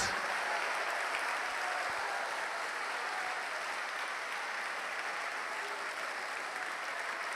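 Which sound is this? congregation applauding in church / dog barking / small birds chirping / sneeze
congregation applauding in church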